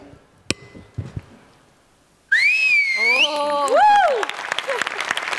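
A fan in a Marathi comedy show audience lets out a loud, piercing whistle with sliding, warbling pitch, following a few sharp knocks and quiet room sounds, then fading into crowd noise and scattered claps.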